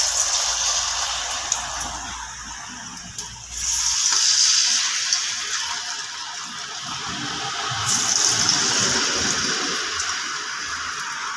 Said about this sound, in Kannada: ಈಗ ಎಣ್ಣೆ ಬಿಸಿ ಆಯಿತು. ಈಗ ಕಾವಲಿಯಲ್ಲಿ ಇದನ್ನು ಸ್ವಲ್ಪ ರೌಂಡ್ ಹೀಗೆ ಮಾಡಿ ಇಡಬೇಕು.